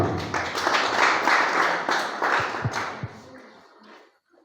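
A burst of audience applause at a student awards ceremony, many hands clapping together, loud at first then thinning out and fading to a few last claps.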